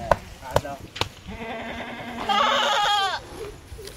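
A goat on a goat farm lets out one long, wavering bleat, preceded by a few sharp knocks and thumps, close by over low background noise.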